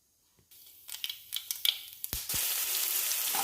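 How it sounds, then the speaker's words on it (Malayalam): Mustard seeds pop and crackle in hot oil with sharp, scattered bursts, then onion drops in and a broad, steady sizzle takes over. "നമ്മൾ എണ്ണ ഒഴിച്ചു ഇനി അതിലോട്ട് കടുകിടുക കടുക് പൊട്ടി തുടങ്ങുമ്പോൾ നമുക്ക് അതിലോട്ട് കട്ട് ചെയ്ത് വെച്ചിരിക്കുന്ന സവാള ചേർക്കാം"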